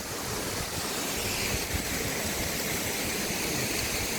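A waterfall (curug) on a hiking trail on Gunung Sago fills the clip with a steady, dense rush of falling water, loud and continuous with no voices.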